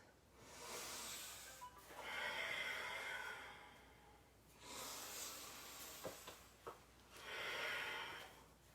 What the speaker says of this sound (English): Let's just do a couple more big breaths.